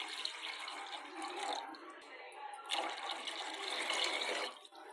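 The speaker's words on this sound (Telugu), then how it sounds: "వాటర్ పోసుకుంటున్నా అండి" Water pouring into a cooking pot for vegetable pulav, a steady close splashing rush that briefly dips midway, then resumes before trailing off.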